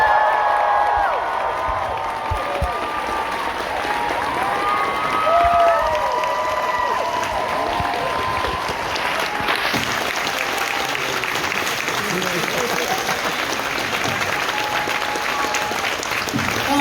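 A Fan Expo audience welcoming the Smallville cast to the stage with sustained, loud applause, cheering and whoops from a large crowd that fill the hall without letup.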